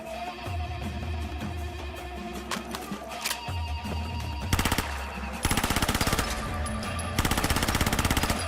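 Thompson drum-magazine submachine gun in a Fallout 4 mod, loud rapid automatic bursts of gunfire that start as sparse shots and grow into long sustained strings of rounds toward the end.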